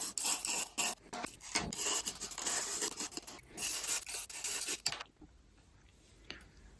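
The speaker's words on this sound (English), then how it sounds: "I found a toothbrush which is just fine, and in the meantime this whole thing dried off, so I put a little bit more deoxy on that and we're gonna scrub away." A toothbrush scrubs corroded battery contacts wetted with DeoxIT, making close, rapid rasping strokes in irregular bursts for about five seconds before the scrubbing stops and near silence follows.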